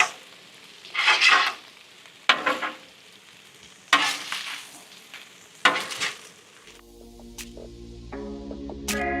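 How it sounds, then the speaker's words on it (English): Meat sizzling and frying on a Weber Slate 36-inch griddle as it is mixed, loud crackling bursts from repeated spatula scrapes and stirs, ending in metallic clinks and a tonal hum. "now mix all the meat up,"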